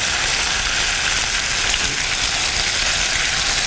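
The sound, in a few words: garlic sizzling in a hot pan for steak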